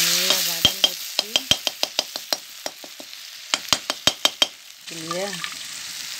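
Mutton with onions and tomatoes sautés in a village kitchen with a steady sizzle, punctuated by a run of sharp, close ladle clacks against the pan, while a harmonic animal-like call sounds at the start and again near the end.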